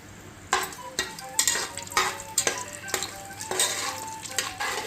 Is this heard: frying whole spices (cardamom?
yes